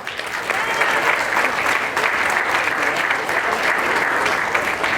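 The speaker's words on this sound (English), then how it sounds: "please give yourself a big round of applause" A crowd at a Hindu temple event gives a sustained round of applause, dense and even throughout, with no speech over it.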